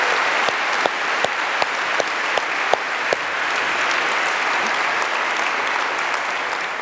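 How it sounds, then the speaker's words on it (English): A conference audience applauds the event organizers, steady dense clapping from a crowd filling the room, with a few sharper individual claps standing out near the start and no talking over it. "huge round of applause to say thank you to Mary and all the people from White October Events"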